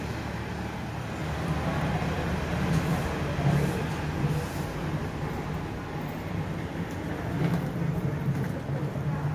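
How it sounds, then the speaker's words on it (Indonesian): Truck loaded with fruit passing along a Hong Kong street on a quiet holiday morning, a steady low engine rumble mixed with broadband traffic noise that swells slightly as it goes by, continuous throughout. "Truk bawa buah-buahan."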